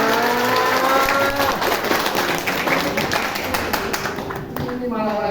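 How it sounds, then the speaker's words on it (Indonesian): An audience at an Islamic business seminar in Jember applauds in a sustained wash of clapping, with a voice speaking over it. "Seneng ya tepuk tangan."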